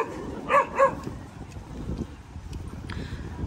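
During leash training with volunteers, a dog gives two short, high, whimpering yelps close together near the start. Quieter background noise follows with a few faint sounds.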